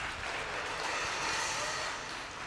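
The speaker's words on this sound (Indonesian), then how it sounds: "Berikan tepuk tangan buat Tuhan." A church congregation applauding during a Sunday worship service, a steady, dense wash of many hands clapping together with no talk over it.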